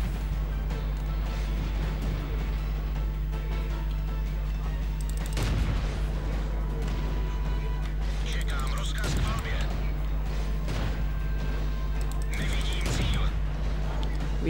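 Heavy booming cannon shots from a Panzerjäger I tank destroyer in World of Tanks, a few big blasts over a constant low rumble and engine drone, with a voice talking throughout.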